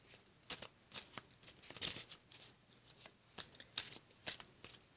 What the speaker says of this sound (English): One more shuffle, and then I will cut.